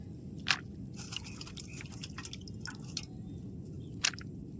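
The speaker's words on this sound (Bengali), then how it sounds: "কুমড়ো কাইটা দিয়ে তো জল ঝরাতে দিয়ে দিছি" Water drips off freshly washed, cut pumpkin pieces set aside to drain, a few soft scattered drops and small splats falling quietly over a low steady background hiss.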